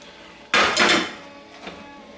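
Prawn pasta with peppers being stirred in a very hot pan: a sudden loud clatter of utensil against metal, a short scraping burst, then a faint tap, with quiet room noise around it.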